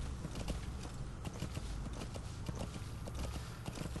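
Steady horse hooves clip-clopping in a quick, even rhythm over a constant low rumble, no talk, in Metal Gear Solid V: The Phantom Pain.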